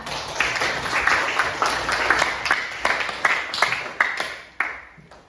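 A classroom of students applauds a classmate called to the front, with scattered, uneven clapping and a few sharp louder claps standing out over moderate background noise.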